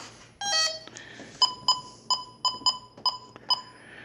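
A building alarm keypad emits a rapid burst of tones followed by seven short, evenly spaced electronic beeps as it is switched off, close and clear in a quiet room.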